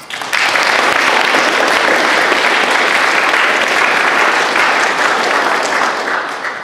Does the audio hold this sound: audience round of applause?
yes